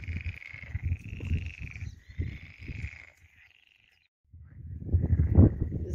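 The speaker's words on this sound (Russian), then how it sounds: "Здесь вот очень много лягушек. Выражают нам свое приветствие, наверное." Frogs croaking by a pond, a dense chorus of close, rapid rattling croaks that pauses into near silence for about a second before swelling again louder.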